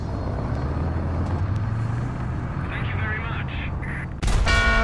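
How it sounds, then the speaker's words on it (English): A loud, steady airplane engine drone runs throughout a War Thunder battle, joined near the end by a sudden burst of harsher, louder noise. "Plane is really loud and obnoxious"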